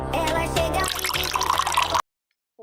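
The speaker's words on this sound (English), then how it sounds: "We're pouring champagne." Champagne being poured makes a steady bubbly liquid rush for about two seconds over a background of music, then cuts to silence with one faint short blip.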